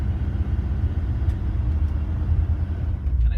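A 1966 Thunderbird idles with a low, steady rumble close by as it is shifted into reverse, the engine note holding even with faint clicks from the cabin and no talk.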